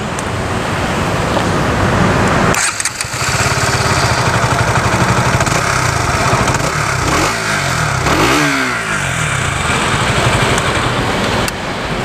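A KTM Duke 200 motorcycle's underbelly exhaust runs loud and close throughout, a steady rough engine note with shifting revs and a few brief rises and dips.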